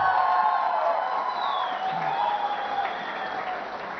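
Audience applause with some cheering at a corporate company event in Mumbai, a steady dense wash of clapping from a crowd that holds for about four seconds and eases slightly toward the end.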